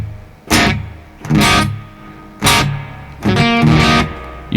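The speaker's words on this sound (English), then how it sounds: "Let me put some reverb on there." Electric guitar played through an Orange Rockerverb amp with reverb added, loud distorted chords struck four times, each ringing out in a wash of reverb before the next strike.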